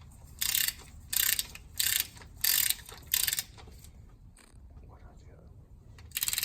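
A torque wrench clicking as it tightens cylinder head bolts on a 1995-2000 Honda Civic, five crisp ratcheting bursts in a steady rhythm, then quieter mechanical handling with someone talking softly.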